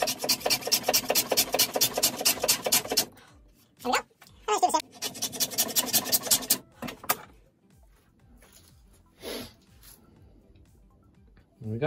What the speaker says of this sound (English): So lots of sanding towards the end just to finish things off.